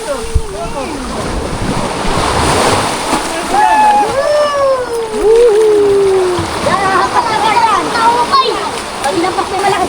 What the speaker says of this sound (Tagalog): Lakas ang alon dito.